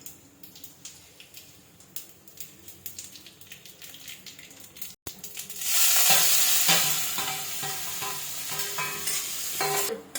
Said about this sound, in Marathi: आता आपल्याला यात कोथिंबीर आणि जिरं मोहरी हे टाकायचे आहेत